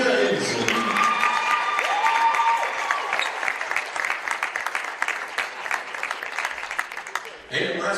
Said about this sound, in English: a big round of applause for number 2,